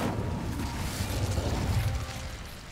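Incendio fire spell cast in Hogwarts Legacy: a dense whooshing burst with low booming rumble and crackling mechanical texture, sustained loud for nearly three seconds before easing off.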